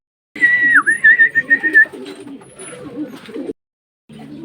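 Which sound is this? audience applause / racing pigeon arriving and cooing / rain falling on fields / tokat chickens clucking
racing pigeon arriving and cooing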